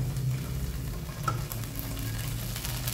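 A tempering is stirred and poured into chicken curry, and a soft, steady sizzle and frying hiss carries on throughout with faint scrapes. No one talks.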